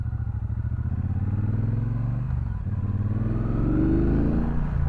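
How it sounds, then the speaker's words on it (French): Close, steady engine rumble of a Triumph Bobber Black motorcycle heard from the rider's seat on the road, a throbbing low-pitched pulse that dips briefly and then rises as revs climb. "Oh, le moteur est agréable."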